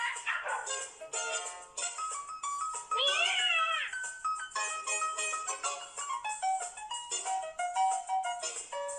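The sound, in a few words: cat meowing in a cartoon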